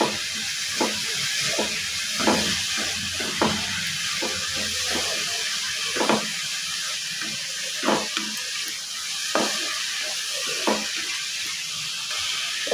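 Coconut sweet mixture with ghee frying in a pan, a steady close sizzle with repeated stirring scrapes and clicks at a regular rhythm, no talk.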